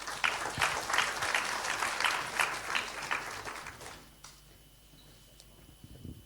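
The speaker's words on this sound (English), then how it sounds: "please give a round of applause and welcome Dr." An audience at a health hackathon opening day in Singapore claps to welcome a speaker, with dense, lively applause lasting about four seconds before quickly dying away into a quiet room.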